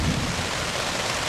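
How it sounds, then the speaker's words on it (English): Steady rain hisses evenly throughout on a September camping trip in the Boundary Waters Canoe Area, a dense wash of noise without talking. "But even though it's raining,"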